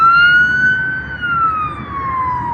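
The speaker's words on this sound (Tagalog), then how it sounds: "Fire truck na maliit." A small fire truck's siren wails loud and close, its single tone gliding slowly downward as the truck passes on a city street.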